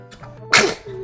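A single sharp sneeze bursts out close by after a quiet stretch, loud and brief, with a faint low hum continuing underneath.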